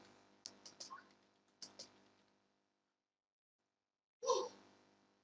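Keys clack on a computer keyboard while commands are entered into the Windows 11 command prompt: a few quick, quiet bursts of key presses, a long silent pause, then one last sharper flurry.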